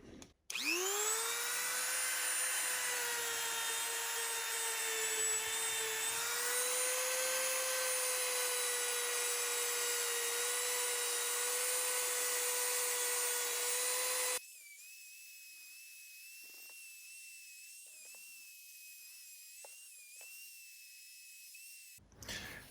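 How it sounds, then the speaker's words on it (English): A small Dremel rotary tool fitted with a felt pad burnishes leather, giving a steady high-pitched whine for about fourteen seconds that then drops to a quieter, lower hum before stopping. "I like to come in with a little Dremel tool. Same thing, it's just got a little felt pad right on the end there."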